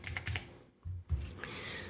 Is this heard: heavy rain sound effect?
no